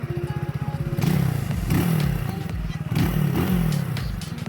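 A 250-300cc motorcycle with its stock exhaust burbles and revs nearby with a deep, throaty exhaust note rising and falling in pulses, with some clattering mechanical noise.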